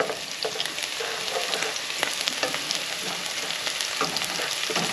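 Sukuma greens for ugali sukuma fry in a pan while being stirred, giving a dense, even sizzle with frequent sharp scraping clicks throughout.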